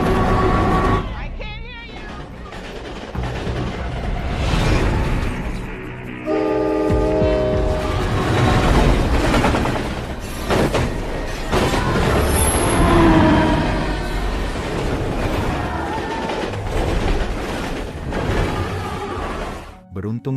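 A train rumbles along loudly with continuous rail noise and a horn blast, while a voice talks over it throughout.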